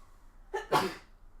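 A single sharp sneeze, close and loud, with a quick intake of breath just before it, then quiet.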